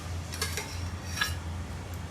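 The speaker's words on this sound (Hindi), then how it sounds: "हम एक तड़का पैन ले लेंगे, और इसके अंदर हम ऐड करेंगे घी।" A small metal tadka pan is handled for adding ghee, giving faint clinks and light taps of metal over a low steady kitchen hum.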